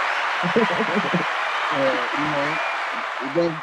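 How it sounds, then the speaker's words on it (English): Applause for co-host Nadia on a talk show fills the background as an even wash of clapping, while a voice speaks in short bursts on top of it. "Let's give Nadia a round of applause"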